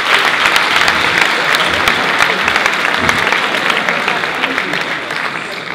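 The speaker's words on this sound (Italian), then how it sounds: "Fate un applausino a Frida, dai." An audience at a talk on digital schooling bursts into sustained, loud applause, a dense steady clapping that holds for several seconds and tapers slightly at the end.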